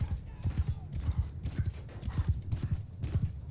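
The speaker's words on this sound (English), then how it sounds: "This guy's fast on his horse." Hooves clip-clop in a quick, steady galloping rhythm as a horse charges across a Mount & Blade II: Bannerlord battlefield, with faint battle noise beneath.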